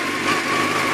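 A Honda CBR600 F2 motorcycle engine running steadily with a high, buzzing drone, close and loud, holding an even pitch throughout the short moment.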